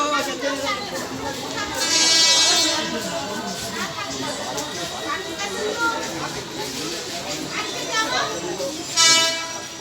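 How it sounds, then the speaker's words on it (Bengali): A Ranaghat local train pulls into a busy station, its rumbling carriages loud and close for about ten seconds, with brief high horn or brake squeals near the start and end, and people talking over the noise. "আর এখন আমাদের রানাঘাট লোকাল চলে আসলো"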